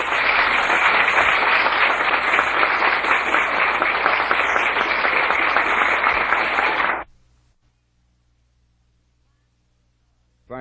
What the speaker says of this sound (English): Thank you very kindly for your heartwarming applause